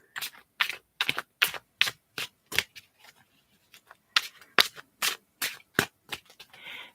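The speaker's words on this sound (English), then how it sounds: "while I shuffle the cards." Tarot cards being shuffled in a series of crisp, rapid riffling bursts, close and fairly quiet, with short pauses between each flurry and no talking.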